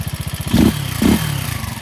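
A Janus Halcyon 250 motorcycle fitted with a 28mm Nibbi carburetor idles nearby with a loping, rhythmic single-cylinder thump, broken by two quick blips of the throttle.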